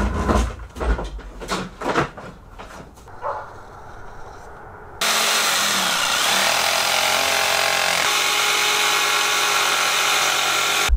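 A power tool cuts holes into a bumper cover, starting abruptly and then running as a steady, loud, continuous whine for several seconds, preceded by scattered knocks and handling noise.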